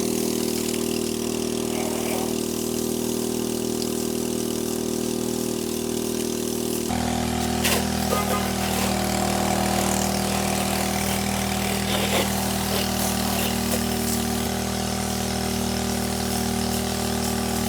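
A Cheap Shot pressure washer's engine runs steadily while soaping and rinsing a two-story house, giving a constant close droning hum whose tone and load shift noticeably partway through, with no talking.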